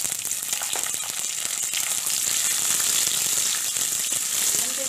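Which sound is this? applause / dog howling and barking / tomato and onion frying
tomato and onion frying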